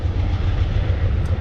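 A train rumbles past in the background with a steady, continuous low roar and rolling rail noise that holds at an even level throughout, with no voices.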